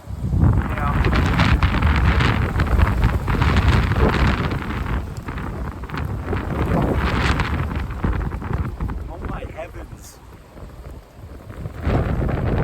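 Outdoor wind buffets the microphone in heavy rumbling gusts that rise and fall throughout, with talk faintly mixed in beneath the roar.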